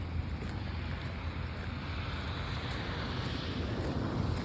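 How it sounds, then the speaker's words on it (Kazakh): Steady rushing river water with a low rumbling undertone, continuous and fairly loud, with no voices. "Бұл жақта дариядан су ағады екен."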